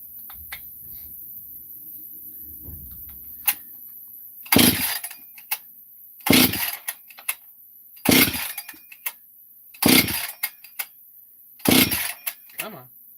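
Husqvarna 262xp chainsaw being pull-started with the choke set: five loud, sharp bursts of starter effort about two seconds apart, each a quick rasping surge with a brief sputter, with near silence between and no sustained running.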